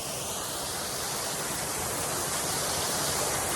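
A waterfall pours in a steady, dense, unbroken roar of rushing water, loud and close, with no voices.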